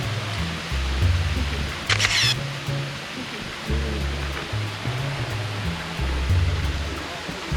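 Steady rushing water from Cheonchuk waterfall on a Dobongsan mountain hiking trail in Korea fills the background throughout, with a sharp burst of camera clicks and intermittent low voices nearby.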